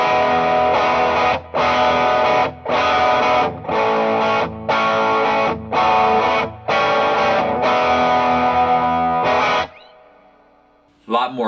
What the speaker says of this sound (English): A lot more drive going on with the Texas sound.